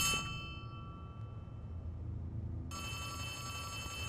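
Telephone ringing in a horror video game: a bright, tonal electronic bell that rings, pauses for about two seconds over a low rumbling background, then rings again loudly.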